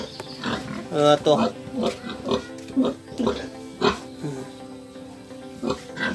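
Pigs on a pig farm grunt and oink in a repeated, uneven series of close, loud snorts, with someone speaking over some of them.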